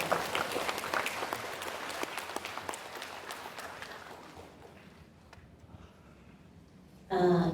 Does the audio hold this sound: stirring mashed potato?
no